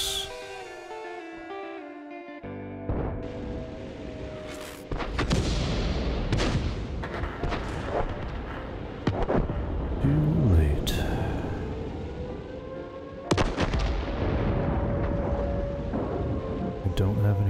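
Heavy cannon and gun fire in a World of Tanks-style tank battle game, deep booming shots and rumbling impacts scattered over a continuous battle din while a voice talks throughout.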